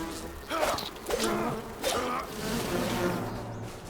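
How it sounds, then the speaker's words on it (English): Bees buzz in the Enshrouded video game, a close droning hum with several louder swells as they pass, over ambient game noise. "I swear, these bees, guys."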